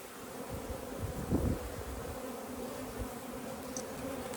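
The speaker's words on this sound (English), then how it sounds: "And the bees are, look, they're pretty chill" Honeybees buzz steadily around an open hive during an inspection, a continuous close drone with a brief louder swell as bees pass near.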